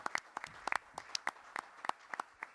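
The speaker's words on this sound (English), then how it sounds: "Let's give them all a strong round of applause as well." A small press conference audience claps briefly, a sparse scatter of individual hand claps heard close and without voices.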